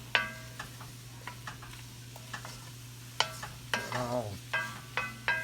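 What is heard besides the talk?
stirring flour into beef in a pot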